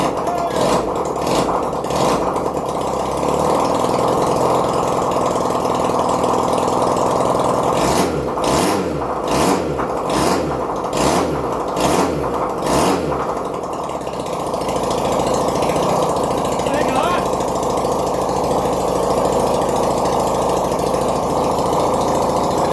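A 1971 Honda CD175 K3 motorcycle engine under restoration tries to start with a few rapid bursts of cranking, then a steady near, loud idle that runs on alone.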